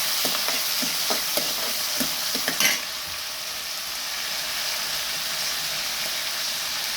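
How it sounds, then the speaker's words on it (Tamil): Tomatoes and onions sauté in a pan with a steady, close sizzle, with a few light stirring scrapes and clinks in the first few seconds. "தக்காளி ரெண்டு தக்காளி அதையும் நல்லா வதக்கிக்கோங்க"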